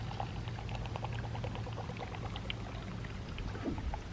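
Frothy beer pours steadily and fizzes throughout, a close, continuous gurgle with crackling bubbles and no voices.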